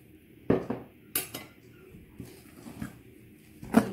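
Flour and water are mixed for fresh pasta dough in a bowl, heard as sharp intermittent clinks and scrapes of a utensil against the bowl, close and quiet between knocks.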